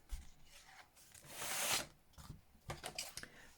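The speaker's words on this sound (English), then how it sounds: "you're just going to score up to that cut like that" A scoring tool drawn across cardstock up to a cut line, heard close as a quiet scratchy swipe that swells to a bright rasp midway, followed by a few short taps and rustles of paper.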